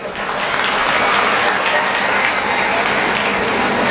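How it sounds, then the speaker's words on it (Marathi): An audience at a public speech breaks into loud, sustained applause, a dense wash of many hands clapping that holds steady for several seconds. "त्याच्यासाठी जोरदार टाळ्या वाजवा."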